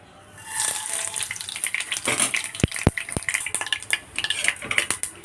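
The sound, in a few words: mustard seeds sputtering in hot coconut oil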